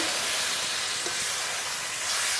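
Water poured into a hot pan of Malabar spinach greens with green chilli gives a loud, steady hiss of steam that holds for the whole stretch.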